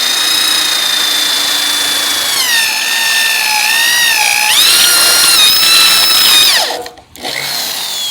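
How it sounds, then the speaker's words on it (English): A power drill with a step bit whines at high pitch, rising and falling as it bites through the metal of a Cherokee XJ bumper end cap, then stops abruptly. "I'm going to drill it with a step bit."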